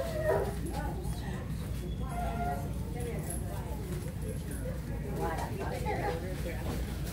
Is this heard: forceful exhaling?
no